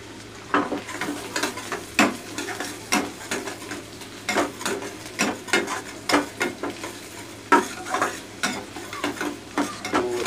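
Sliced paneer and green chillies frying in a pan, a continuous sizzle broken by regular scraping and clattering strokes of a spatula against the metal, close and alone.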